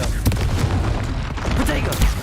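A Confringo spell blast in the Hogwarts Legacy video game: a few punchy booms and pops close together over a low rumbling battle background, loud and near.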